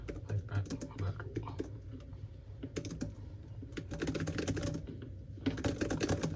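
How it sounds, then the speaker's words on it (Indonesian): Keys clatter steadily on a MILS Floating Magic Keyboard case for an 11-inch iPad, a close, soft-clicking run of keystrokes with brief pauses between bursts of typing. "Suara ngetiknya enak sih sebenarnya ini."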